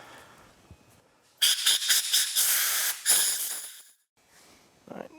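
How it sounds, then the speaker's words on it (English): Aerosol cleaner sprays in short bursts then a sustained hiss onto Honda CBR 600 RR rear brake master cylinder parts, loud and close, ending abruptly with faint handling noise after. "let's go ahead and get that sprayed out and cleaned out"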